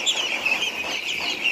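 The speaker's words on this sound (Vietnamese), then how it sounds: "Nè nguyên một bầy vịt siêu Hòa Lan này," A hungry flock of Dutch super ducks on a farm with fish ponds clamours before feeding, a dense, steady chorus of overlapping calls close by, with no talk.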